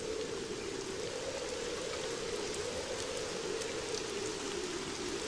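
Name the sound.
rain during a storm, cartoon sound effect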